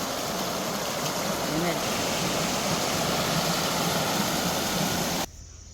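Loud, steady rush of a rain-swollen village river, a constant broadband roar that continues unbroken before cutting off abruptly near the end.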